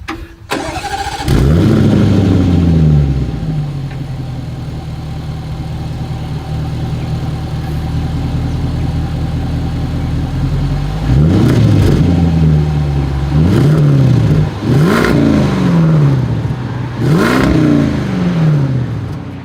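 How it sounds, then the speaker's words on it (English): A 2023 Land Rover Defender 90 V8 Carpathian Edition starts with a burst, then its exhaust idles steadily before a series of four sharp, loud revs that each rise and fall back, close and alone with no talk. "As always, here is that exhaust clip."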